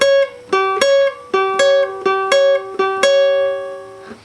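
Electric guitar playing an intro, with a series of clear plucked notes and double-stops ringing out in an uneven, bluesy rhythm. The last note sustains and slowly fades, with no voice over it.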